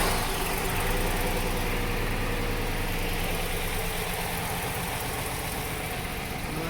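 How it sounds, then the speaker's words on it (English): A 2002 Cadillac Escalade engine, fitted with a 2005 Yukon PCM, idles roughly and runs rich, giving a steady, loud, close rumble with uneven low pulsing throughout and no talk. "Well, it's running, but it's running rough, rich, because of no O2 sensors"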